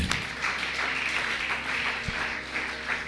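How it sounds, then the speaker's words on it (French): A church congregation applauds for Jesus in steady, continuous clapping that fills the room, loud and sustained with a few voices mixed in. "Acclame très bien Jésus"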